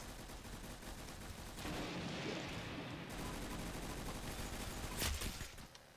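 Sustained rapid gunfire from a big gun in a video game, a dense continuous rattle of shots over several seconds with a louder burst near the end, heard over game background noise.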